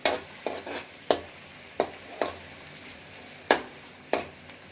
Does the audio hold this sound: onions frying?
yes